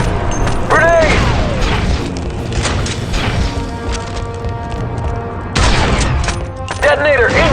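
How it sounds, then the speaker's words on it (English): Grenade explosions and rapid gunfire in the Star Wars: Republic Commando video game hit in loud booming bursts, with continuous firing between them and shouted voices mixed in. "Grenade!"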